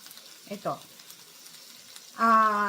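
Large onions and mushrooms frying in a little oil give a steady, low sizzling hiss, with a couple of short vocal sounds near the start and a sustained humming voice toward the end.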